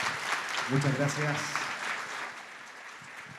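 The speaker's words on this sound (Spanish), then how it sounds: "Más fuerte el aplauso para él" Audience applause fills a lecture hall, a dense patter of clapping that fades gradually while someone speaks over it.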